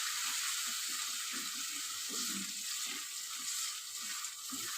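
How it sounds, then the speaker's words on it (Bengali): Spice paste for a Bombay duck (lote fish) curry is fried in a pan, giving a faint, continuous sizzling hiss with soft stirring noises underneath and no talking. "এবার আমি ভালো করে মশলাটাকে কষিয়ে নেব।"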